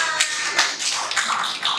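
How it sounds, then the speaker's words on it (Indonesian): An audience at a school teachers' positive-culture dissemination session claps in a short burst of close, scattered hand claps. "Terima kasih, tepuk tangan."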